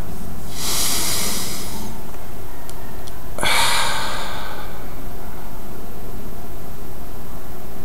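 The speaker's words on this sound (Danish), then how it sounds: "Start med at tage en dyb vejrtrækning helt ned i underlivet." Two deep breaths into the belly during a guided meditation, each a long airy hiss lasting over a second, close and fairly loud, separated by a brief pause with faint clicks, then quiet room tone.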